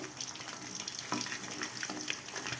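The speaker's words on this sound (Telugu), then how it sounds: "నిదానంగా అయితే వేయించుకోవాలి" Chicken legs fry slowly in oil on a low flame, giving a soft, steady sizzle with faint crackles and small pops, quiet and close, with no talking.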